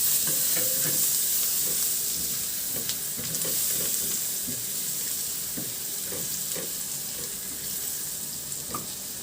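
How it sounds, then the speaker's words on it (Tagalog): Garlic sautés in about a tablespoon of margarine in a pan, giving a steady close sizzle with occasional light stirring clicks throughout. "Igisa ko na rin yung bawang."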